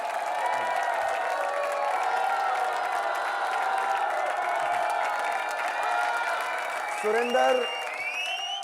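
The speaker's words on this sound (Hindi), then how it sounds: "सुरेंद्र प्लीज आइए स्टेज पर, जोरदार तालियां।" Studio audience at a comedy show cheers and claps as a guest is called onstage, a steady crowd roar with whoops, layered under music and a loud voice near the end.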